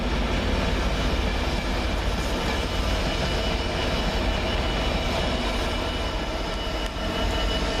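A TransPennine Express Class 185 diesel unit runs past a station at Doncaster, a loud, steady rumbling roar of engine and wheels on rails that holds throughout with no voices.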